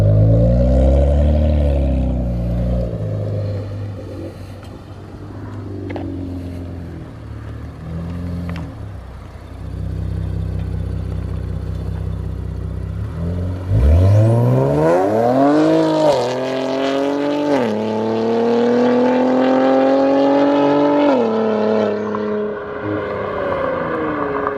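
Infiniti Q60 with new downpipes revving hard, a loud deep engine roar climbing and falling in pitch through repeated pulls, near and continuous with no talk over it.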